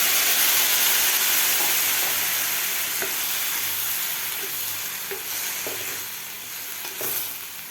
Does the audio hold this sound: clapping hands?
no